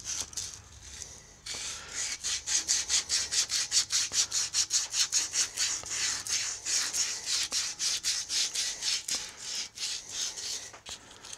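A Craftsman riding mower part is rubbed by hand with emery cloth in quick rhythmic back-and-forth strokes, close up and crisp, with no talking.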